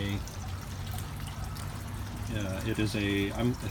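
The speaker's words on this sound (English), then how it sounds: "that water overflows into my primary filter" Water from an aquarium sump overflows into the primary filter with a constant rushing, trickling wash, and someone talks over it toward the end.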